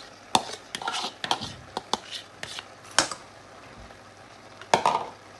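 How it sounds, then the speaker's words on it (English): Frozen minced vegetables tipped into a pan of meat, making scattered clattering knocks and scraping stirs against the pan with a faint sizzle underneath, close and irregular, no talk. "And I'm going to add my minced veg. It's a frozen minced veg."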